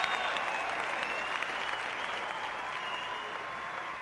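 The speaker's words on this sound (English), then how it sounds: "The applause continues for Mike Francois" A hometown crowd at a bodybuilding contest applauds continuously for competitor Mike Francois, a steady wash of clapping that eases slightly toward the end.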